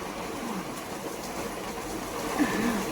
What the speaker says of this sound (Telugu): వాన పెరుగుతుంది తొందరగా